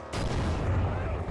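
Bursts of video-game gunfire from a Roblox match crackle and boom continuously, dense and loud, with a player's voice talking over them.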